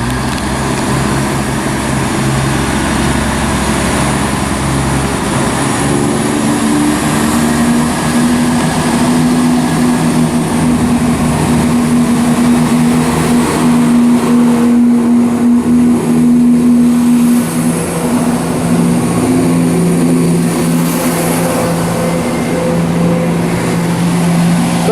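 A ScotRail service departing Linlithgow station toward Edinburgh, its engine drone rising with steady tonal hums as it pulls away, loud and continuous with broadband rumble throughout.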